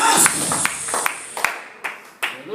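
A church congregation claps in a rhythmic, loud burst of applause, close-up hand claps continuing and gradually thinning out into separate single claps.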